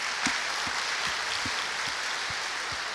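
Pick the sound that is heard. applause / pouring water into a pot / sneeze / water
applause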